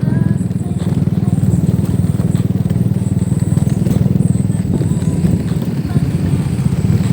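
Steady, loud engine drone of trail motorcycles riding continuously, a low rumbling hum with no pauses and a rough, rattling texture throughout.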